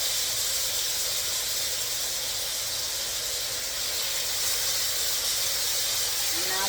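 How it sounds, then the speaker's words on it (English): Continuous frying sizzle from a hot pan, a dense even hiss that stays loud throughout, with a brief faint sound near the end. "That's the sizzle you want to hear."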